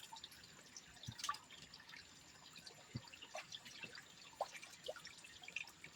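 Faint, scattered drips of water fall irregularly in a quiet setting, small soft plinks spaced unevenly over a low background hiss.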